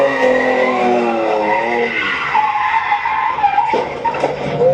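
A drawn-out motorcycle rear tire skid under held braking screeches with wavering high-pitched squeal tones over engine rumble, sliding and shifting pitch before fading into a rougher scrape.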